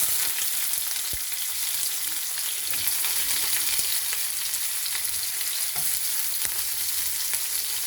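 Chopped onions added to hot oil with mustard seeds and urad dal sizzle in a pan, a dense, continuous frying hiss with occasional pops and stirring scrapes, close and steady throughout.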